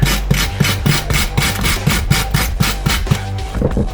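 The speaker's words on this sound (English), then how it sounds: "if I scrape up this corner right here" Foam stone being scraped at one corner, a steady rasping scrape repeated in quick rhythmic strokes, close and fairly loud with no voices.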